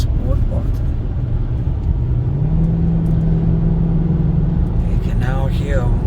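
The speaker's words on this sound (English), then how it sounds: "Always loved the exhaust note in these cars, especially when you push the magic button, and by that I mean the sport button." A 2013 Maserati Quattroporte's exhaust in sport mode gives a steady, loud low rumble, with a faint tone rising partway through.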